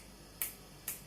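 Two crisp finger snaps about half a second apart, sharp and close against a quiet background.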